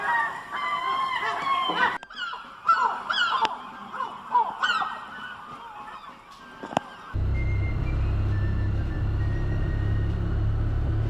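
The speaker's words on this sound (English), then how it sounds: "the seagulls have got us up anyway" Early-morning gulls on the English Riviera at Dartmouth calling in repeated honking, squawking cries, fairly close, before a steady low rumble of traffic or engine noise takes over in the second half.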